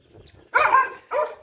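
A German Shepherd gives two loud, close barks in quick succession, the first longer and the second shorter, with little else around them.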